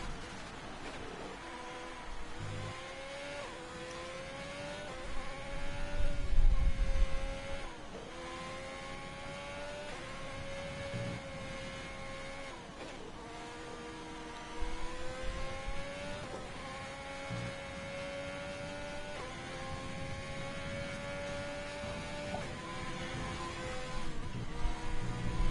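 A sim racing car's engine, heard from an onboard view in a Japan round, whines and revs steadily with repeated pitch rises and drops through gear changes and braking zones, faint and continuous.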